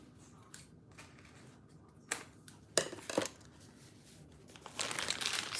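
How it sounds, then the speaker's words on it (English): A few crisp scissor snips and paper crinkles sound close up between quiet pauses while decorating an Easter cake, then a busier rustling toward the end. "Scissors."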